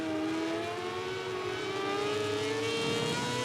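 Motorcycle engine in the racing game MotoGP 18, a steady high-pitched whine rising slowly as the throttle opens, loud and continuous with no talk.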